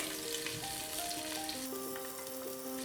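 Onions fry in mustard oil for biryani and are stirred, giving a soft, steady sizzle under faint background tones.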